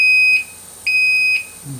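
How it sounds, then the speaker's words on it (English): A smoke alarm driven by an Arduino text alert circuit gives two loud, piercing, steady beeps about half a second long, separated by a short gap, close and alone. "So we're almost to the alarm."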